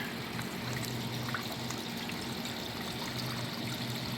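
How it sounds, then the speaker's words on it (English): Low creek water trickles and burbles over small stepped drops, a quiet, continuous babbling flow heard alone and close without pauses. "creek running down through here."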